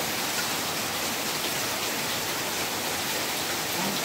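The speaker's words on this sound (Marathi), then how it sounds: "मित्रांनो पाऊस बघता कमी होताना नावच घेत नाही हा" Heavy rain pours in a Konkan village during a May downpour, a dense, constant hiss of water close by that never lets up.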